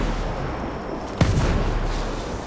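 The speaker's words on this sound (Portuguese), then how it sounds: "Tem um rojão vindo, líder Ghost" A single sharp explosion from an incoming rocket in the video game Ghost Recon Breakpoint cuts through a steady low rumble of background noise, followed by a brief echoing tail.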